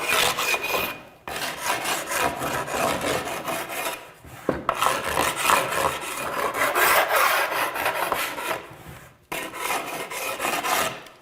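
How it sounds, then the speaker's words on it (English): A sharpening stone rubs lightly along wood edges in steady back-and-forth strokes, a close, continuous gritty rasp broken by a few short pauses between passes. "we're just lightly going to take the edges off"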